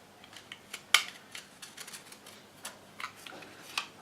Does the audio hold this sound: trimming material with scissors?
yes